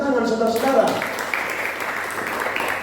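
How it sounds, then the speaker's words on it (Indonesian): At a church year-end worship service, a congregation breaks into applause. A broad wash of clapping starts after a brief spoken voice and carries on steadily to the end. "Beri tepuk tangan, saudara-saudara."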